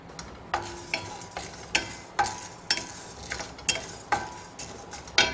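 Urad dal and chana dal dry-roasting together in a pan for millet idli podi, a spatula scraping and stirring in steady, rhythmic strokes about twice a second, each stroke a crisp rasp over a faint background.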